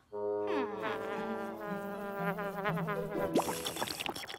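Fly buzzing steadily and close with a sustained droning whine that wavers in pitch, then a burst of brighter, noisier sound near the end; no talking.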